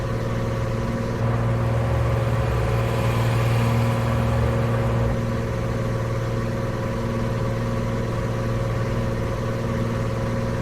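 A truck engine in American Truck Simulator runs at high revs, a loud sustained drone with steady harmonic tones and no speech throughout.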